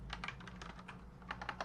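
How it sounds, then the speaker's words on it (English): Keystrokes on a computer keyboard patter in quick, uneven bursts close to the microphone, with brief pauses between clusters of taps over a low, steady background hum. "I need to type in here"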